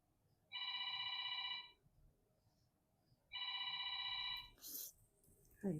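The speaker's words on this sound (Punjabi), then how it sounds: "ਫੋਨ ਵੱਜਣ ਡਿਆ ਵਾ" A telephone rings twice in long electronic bursts separated by a pause, fairly clear in a quiet room, followed by a brief rustle.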